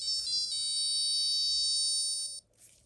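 A rare 1982 Casio digital watch plays its alarm as a loud, steady electronic melody of high beeping tones for over two seconds, then cuts off abruptly, leaving a faint tail.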